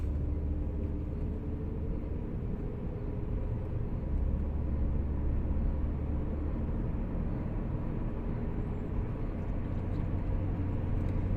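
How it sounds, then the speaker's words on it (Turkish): A 2011 Opel Astra J Cosmo heard from inside the cabin while driven calmly through gear changes, giving a steady low engine and road rumble at constant level with no talking. "Şimdi şöyle dikkatlice geçelim. Vites geçişlerini takip edin."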